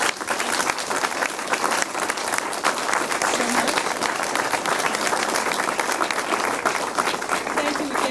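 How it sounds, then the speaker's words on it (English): An audience applauds after a student presentation at a university event, loud sustained clapping from a full room with a few voices mixed into the steady roar. "giving our students one more round of applause for that terrific presentation"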